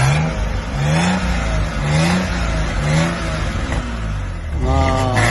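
A used car's 2.6 engine at the Kyzyl-Adyr car lot revs in repeated rising and falling surges over a steady idle, loud and close, while people talk over it.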